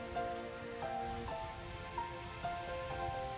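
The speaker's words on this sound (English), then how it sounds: "the obnoxious pounding of the rain against the window" Rain pounds against a window as a faint, continuous patter with soft pulses, heard alone without voices.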